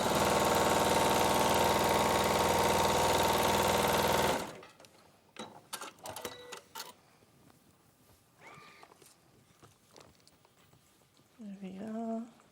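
A sewing machine stitching fabric runs in a steady, loud mechanical whir for about four seconds, then stops, followed by quieter clicks and handling noises while people talk.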